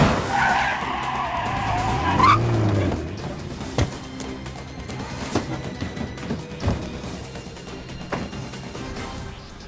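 Tires skid and squeal for about two seconds as a cargo truck pulls in within the stealth video game Splinter Cell: Pandora Tomorrow, then a few dull thumps and clunks follow over a low ambient rumble.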